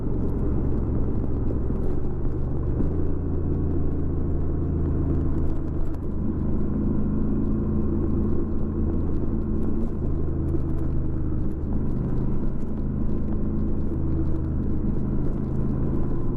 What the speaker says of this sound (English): I shift to 4th at 38 miles per hour and quickly to 3rd at 37 miles per hour to slow the 1100 through the curves